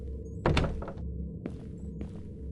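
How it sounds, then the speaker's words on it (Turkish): A door thuds shut in the horror game Kamla, one solid close near the start followed by fainter knocks and shuffling against a steady low game hum. "Kapat kapıyı"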